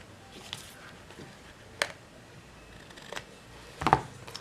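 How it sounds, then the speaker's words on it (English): Scissors trim the edge of a paper card, giving a few sharp, separate snips spaced out over a quiet background, close and without talk. "And then trim this edge off here."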